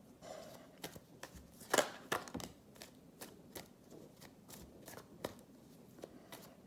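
Oracle cards being shuffled and cut by hand, a soft close riffle followed by a series of separate light taps and slaps, quiet and alone with no talk.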